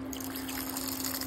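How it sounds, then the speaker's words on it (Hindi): Water trickles and pours steadily for a moment into a grinder jar holding tomato, ginger, green chilli and black pepper for masala, close and fairly loud. "थोड़ा सा पानी"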